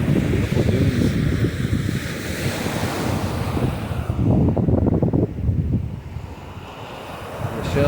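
Ocean surf rolls onto the beach at Amelia Island, Florida, with strong gusting wind buffeting the microphone in a continuous loud roar that eases briefly near the end.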